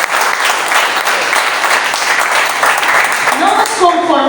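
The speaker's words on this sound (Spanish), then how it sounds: "¿Cuánto le pueden dar un fuerte aplauso al Señor por su palabra?" A church congregation claps in a loud, sustained burst of applause that fills the room, and a voice comes in near the end.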